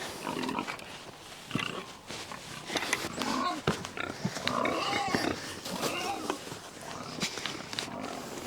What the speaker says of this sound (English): now we're gonna feed some pigs.